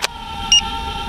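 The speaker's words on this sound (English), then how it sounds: "it sounds like it's got a low voltage beep" A toy Apex Batman drone sounds a short, bright electronic low-voltage warning beep, a single brief tone standing out over a steady high motor whine.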